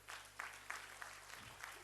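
A church congregation cheers and claps for God during a sermon, a brief burst of scattered applause with louder claps standing out over a low hum.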